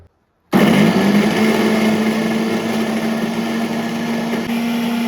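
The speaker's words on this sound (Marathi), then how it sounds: "बारीक करून घेणार आहे मिक्सरमध्ये" An electric kitchen mixer grinds blanched spinach leaves into a smooth paste for palak puri, a loud steady motor whine starting abruptly after a brief silence and running continuously without talk.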